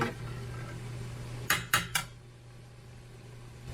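Three quick metallic clanks, like a spoon knocking against a pot while stirring whole wheat penne in water, rise briefly over a low steady hum, then fade back to quiet.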